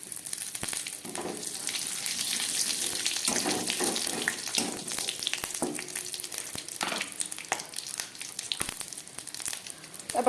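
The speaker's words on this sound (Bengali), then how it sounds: "তারপর কচি পটল কেটে নিয়েছি, পটলগুলোকে একটু ভেজে নিচ্ছি।" Cut young pointed gourd (potol) fries in a pan of oil with white cumin and green chillies, a steady close sizzle and hiss running throughout with faint clicks and no voice.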